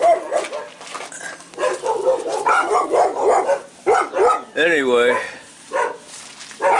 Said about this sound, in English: They got two dogs that are